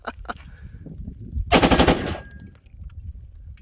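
A 3D printed AR-15 with a Superlower V2.4 fires a short full-auto burst of rapid, evenly spaced shots that are loud and close, with quieter handling noise before and after.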